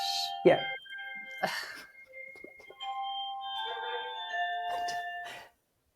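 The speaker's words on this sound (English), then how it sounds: "I knew my doorbell would go while I was talking." A multi-tone doorbell chime rings out, its sustained notes sounding twice, with a person talking over the start.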